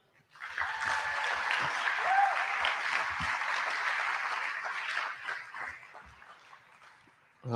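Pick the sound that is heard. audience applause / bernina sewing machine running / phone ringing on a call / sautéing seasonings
audience applause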